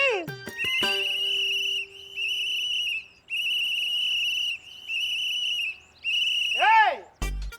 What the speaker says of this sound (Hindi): अरे काहे यहाँ कान में आके जोर जोर से सीटी मार रहे हो